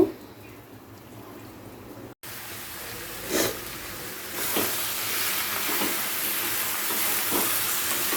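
Fish marinated in mustard oil fries in a pan, a steady loud sizzle starting abruptly after a quiet moment and continuing with occasional bursts of crackling, no voices.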